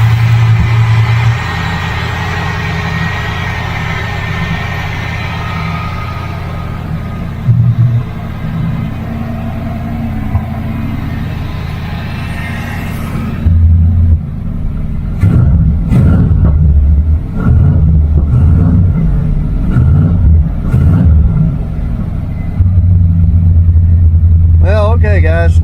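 An old car's engine idles steadily after a jump-start with a booster, a continuous low rumble that runs throughout while someone talks over it in the second half.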